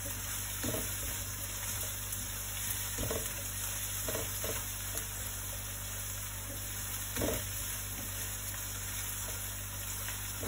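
Steady sizzle of onions frying in a pan, with occasional scraping stirs of a utensil against the pan; no one speaks.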